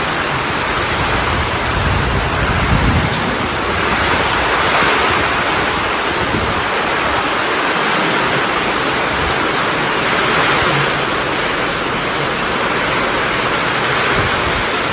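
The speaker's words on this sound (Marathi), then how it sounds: "पाणी बेकार पाणी पडतो." Heavy rain pours down steadily in a continuous, loud, broadband wash that stays even throughout, with no voices over it.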